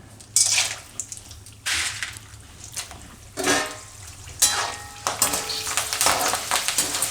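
Dried gunda kachri frying in oil in a pan, bursts of crackling sizzle rising and settling several times, then a busier run of pops and bubbling toward the end, close and without talk.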